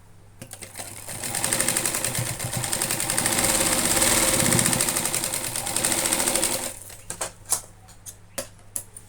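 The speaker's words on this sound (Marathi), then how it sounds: "एकदम व्यवस्थित शिवून घ्यायचं याला सुद्धा आपल्याला डबल टीप मारायची आहे" A sewing machine runs in a fast steady chatter while stitching a simple cloth bag, with soft clicks before and after the run and a few quick taps at the end.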